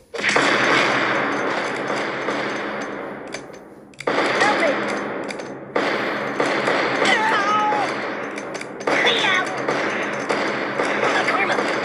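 Rapid bursts of gunfire from a weapon in the Kick the Buddy video game, loud and close, arriving in several sustained volleys separated by short pauses.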